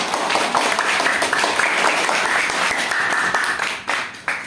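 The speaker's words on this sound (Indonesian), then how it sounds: "Tepuk tangan dong teman-teman" Children clapping together at a mosque dawn-prayer kids' event, a dense, steady patter of many small hands close by that tapers off near the end.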